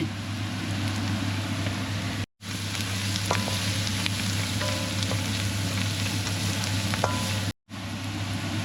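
Dried fenugreek leaves fry in a hot pan with a continuous close sizzle and occasional scraping stirs, cut by two brief drops to silence.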